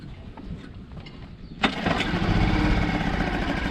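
A boat outboard motor after a carburetor and fuel line clean, idling quietly and then revving up sharply into a loud, steady run that holds to the end.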